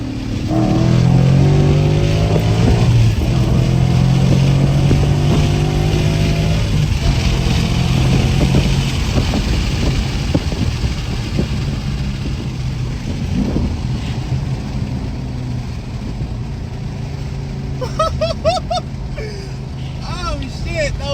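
Ford Mustang GT pulling hard in second gear from a rolling start, a loud engine roar rising in pitch through the revs with tyre and road noise, while people talk over it.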